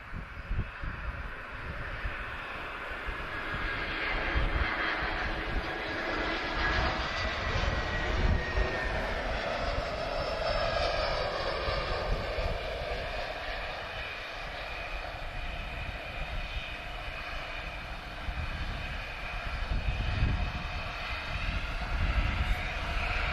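An Airbus jet with sharklets, arriving from Amsterdam, lands in a crosswind at Lisbon Airport, its engine roar swelling and shifting in pitch as it passes, steady and fairly loud against wind buffeting throughout.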